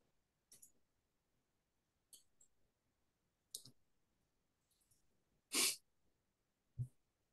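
A single loud sneeze stands out after several faint clicks and breaths, with a short snort-like burst following, in a quiet indoor setting.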